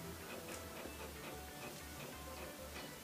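A 3D printer in a print shop builds a replacement wind turbine part, its motors pulsing in a steady low rhythm with light ticking over a constant hiss, nearby, with no one talking.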